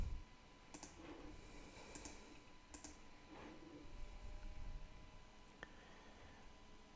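Several soft computer mouse clicks, spaced irregularly, faint and close against a quiet room background with no talk.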